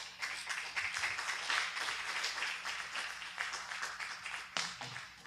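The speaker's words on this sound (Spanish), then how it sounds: "De nuevo, un fuerte aplauso para nuestro hermano." A Spanish-speaking church congregation applauds a brother after his Bible teaching, sustained clapping from many hands at a modest level over a faint steady hum, with a sharper bump near the end.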